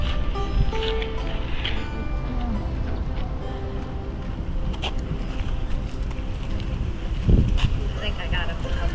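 Wind blows across the grounds of Hiroshima Castle among cherry trees, a continuous low rumble buffeting the microphone, with faint background voices.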